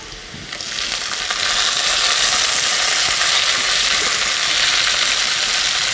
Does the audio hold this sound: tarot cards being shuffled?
no